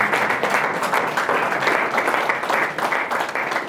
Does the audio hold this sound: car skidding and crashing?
no